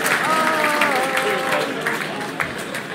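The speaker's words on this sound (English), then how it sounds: "Have we had away fans cheering at one of our injuries? Like clapping?" Away fans at a Cambridge United versus Leyton Orient football match clap and cheer in a continuous crowd roar, heard from within the stands with voices talking over it.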